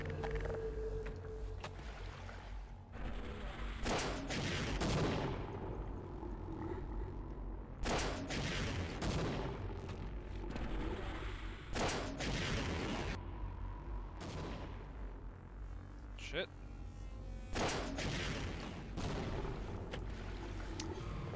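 Video game boss fight with bursts of gunfire at intervals, sharp loud volleys separated by quieter stretches of ambient game sound and tones.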